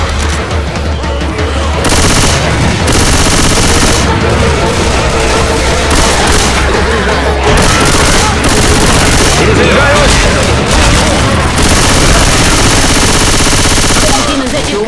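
Rapid automatic gunfire and bursts of shooting from Left 4 Dead 2, loud and continuous across the whole stretch, with occasional booms, under shouted character voices calling out in Russian.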